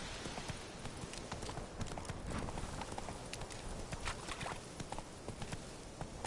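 Roach the horse gallops in The Witcher 3, a steady, rapid clip-clop of hooves that runs loud and continuous throughout, with only a faint hint of a voice.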